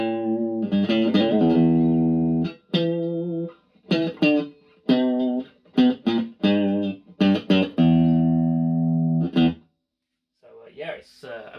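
Electric guitar played through an amplifier set to its clean bright mode, with bright, piercing chords and single notes in bursts separated by short pauses, close and fairly loud, with no talking.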